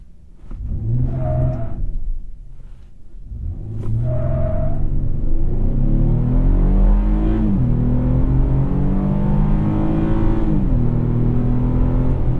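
2021 Chevrolet Colorado ZR2 V6 truck with traction control off accelerating hard from a standstill toward 60, a loud close engine roar climbing through rising revs with gear changes, no talk.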